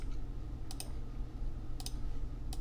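Computer mouse clicks during spreadsheet work, heard as two or three sharp, brief click pairs spaced about a second apart over a low steady room hum.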